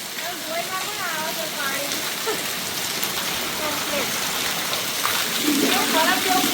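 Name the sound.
heavy rain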